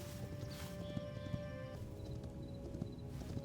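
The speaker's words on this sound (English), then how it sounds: "immediately you can start riding the horse" Horse hooves clopping steadily while riding in the Hytale video game, a continuous rhythmic patter of footfalls at moderate volume over a faint game ambience, with no talking.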